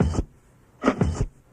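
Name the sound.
turntable scratch of a snare and bass drum sample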